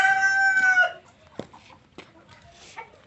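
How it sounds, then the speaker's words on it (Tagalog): A rooster on a farm crows loudly and close by for about a second, then hens give a few short, scattered clucks against a quiet background. "Pasok yung manok."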